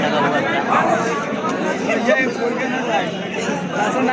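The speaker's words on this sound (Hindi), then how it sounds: "देखिए गाइस कितना भीड़ लगा हुआ था।" Dense crowd chatter fills the space at a singing audition in Gorakhpur, a steady babble of many overlapping voices, close and continuous without any single clear speaker.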